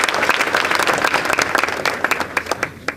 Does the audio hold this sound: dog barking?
no